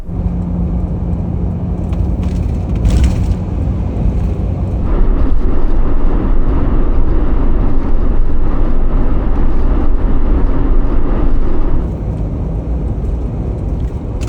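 A used camper van about fourteen years old drives toward a highway parking area in Japan, giving a steady loud road and engine rumble that swells midway and then eases.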